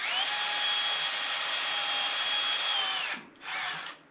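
A power drill bores into a plastic part of an RC car, whining steadily and close for about three seconds, then stopping briefly before a short second burst.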